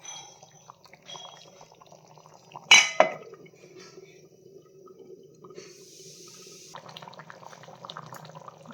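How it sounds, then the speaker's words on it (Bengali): Chicken curry with garam masala in a covered pot gives a quiet, steady bubbling simmer, interrupted near the start by a sharp metallic clang from the pot or lid. "মাংসটা ফুটে এসছে"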